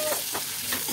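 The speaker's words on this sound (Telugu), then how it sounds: "ఆవాలు, జీలకర్ర, పచ్చిశనగపప్పు, కరివేపాకు వేసి తగినంత ఆయిల్ వేసుకుని తాలింపు పెట్టాను" Mustard seeds, cumin, chana dal and curry leaves tempering in hot oil, a brief steady sizzle with faint crackles and stirring, fairly quiet and without voices.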